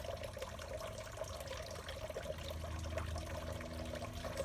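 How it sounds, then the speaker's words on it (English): A small garden fountain trickles and splashes continuously at low volume, a soft steady running flow with a faint tonal hum underneath. "I love to hear that water running."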